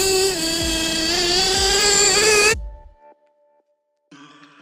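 A small nitro-powered RC engine whines loud and high, holding steady before abruptly cutting out into near silence. A fainter tonal burst returns briefly at the end.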